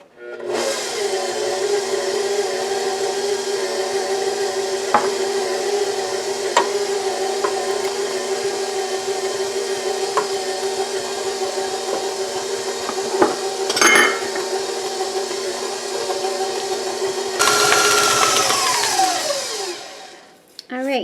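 An electric stand mixer runs steadily on low speed, beating cookies and cream cookie dough with egg, egg yolk and vanilla, a continuous motor whir with occasional clinks against the bowl before the tone shifts near the end.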